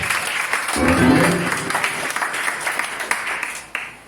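A church congregation applauds in a continuous crowd of clapping with a swell of voices near the start, fairly loud and close, dropping off abruptly at the end.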